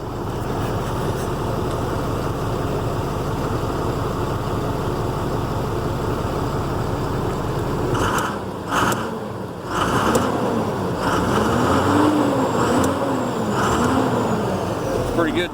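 A 2007 Ford F750 truck with a Cummins 5.9 diesel engine, just repaired after an injector miss, idles with a steady, loud, close rumble. Midway the sound turns rougher and more irregular, and people talk over it.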